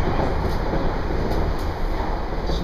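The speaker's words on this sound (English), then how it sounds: "The train is actually, instead of being on a track, it's suspended from overhead rail." Steady low rumble of the Shonan Monorail, a suspended monorail hanging from an overhead rail, riding near Ofuna, Japan, a continuous mechanical drone with faint whirring and occasional soft clicks, no voices.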